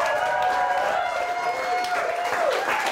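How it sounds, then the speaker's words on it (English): A live crowd at a London cocktail week bar event gives a steady round of applause and cheering, filling the whole stretch at an even level with voices mixed in. "A round of applause for Rich."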